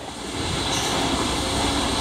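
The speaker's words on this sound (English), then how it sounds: "I'm gonna be riding in my grandpa's fire truck, as you can hear" A large fire truck engine rumbles loudly and steadily throughout, a broad, continuous drone heard from on board.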